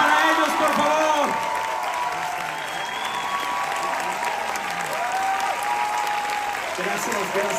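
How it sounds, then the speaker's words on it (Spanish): Audience applause and cheering at a stage performance of "El mago" for its two lead singers, a dense wash of clapping with crowd voices and shouts mixed through it. "¡Un fuerte aplauso para ellos, por favor!"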